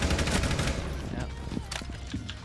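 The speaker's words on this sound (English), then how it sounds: "Yeah, I'm gonna shoot it." Rapid bursts of gunfire in a video game, dense automatic shots over game ambience, loudest in the first second and then thinning out.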